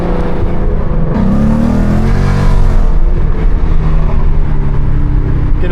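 Loud Ford Mustang engine revving close by, a sustained roaring drone with a rising pitch sweep partway through as the throttle climbs, running continuously without talk.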